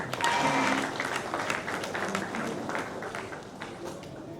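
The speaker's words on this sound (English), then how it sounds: "Please give her another round of applause." An audience at a goodwill-messages event applauds with steady crowd clapping that starts strong and slowly tapers over a few seconds.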